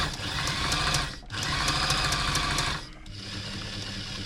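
A Brother XL5012 sewing machine runs loud and close in two steady bursts of rapid mechanical whirring and stitching, separated by a short pause, then continues more quietly.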